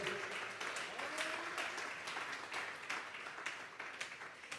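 A church congregation at a Spanish-language Sunday service claps together, rapid, steady applause sustained throughout at moderate distance, with some voices mixed into the crowd noise.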